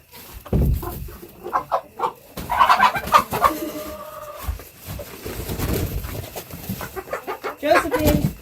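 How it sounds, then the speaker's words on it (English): Chickens cluck repeatedly at close range in a farm livestock pen, with a few short, scattered calls and rustling between bursts. "Now we gotta get all these chickens out of here."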